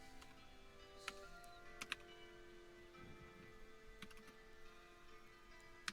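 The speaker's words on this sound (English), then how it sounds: "Sometimes typing it out makes it easier." Keys tapped on a computer keyboard during coding, scattered light clicks over a faint steady hum, quiet and close.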